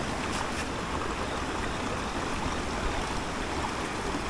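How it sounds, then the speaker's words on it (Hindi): Rushing stream water roars steadily and loudly as a close, continuous broadband wash with no voices over it. "पानी की आवाज़ बढ़ गई भाई"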